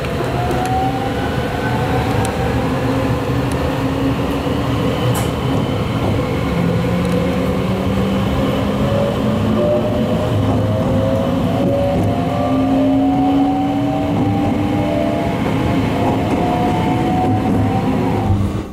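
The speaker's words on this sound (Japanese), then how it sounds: "紀信線と芸備線列車の乗り換え駅の新見駅を発車。" Sunrise Izumo sleeper express pulling out of Niimi station, a steady loud rumble of wheels and motors with rising and falling tonal whines, heard from inside the train without talk.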